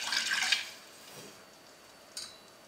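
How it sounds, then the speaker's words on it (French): Fresh water poured into a bowl for a cream gelatin dessert makes a short bright splashing pour at the start, then quiet, then a brief second splash, soft and close. "on va mettre l'eau fraîche"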